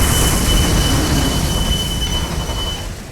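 A train braking on its tracks in the C&C Generals video game gives a loud, continuous roar of rumbling wheels with a thin high squeal running through it, fading slightly toward the end.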